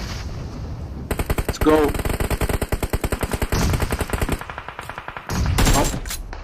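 Rapid automatic gunfire rattles in a PUBG Mobile esports battle, long dense bursts of shots at the edge of the circle, with brief gaps and a loud explosive burst near the end, while a voice speaks over it.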